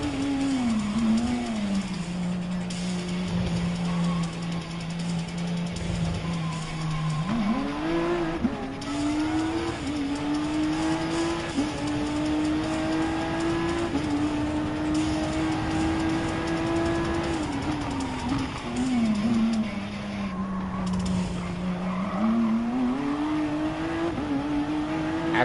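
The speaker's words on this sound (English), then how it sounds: "It's a turbocharged engine." A turbocharged car's engine in Gran Turismo Sport drones loudly and continuously, pitch rising and falling through repeated gear shifts and lifts, with hints of tire squeal and no talking.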